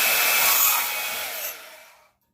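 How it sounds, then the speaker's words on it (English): A power tool cuts a brass valve off copper pipe at the soldered joint, a harsh high-pitched whine close by that holds for about a second and a half, then fades and winds down to silence. "I'm going to cut the brass valve off. Okay. And I'm going to cut right here on the edge of the solder."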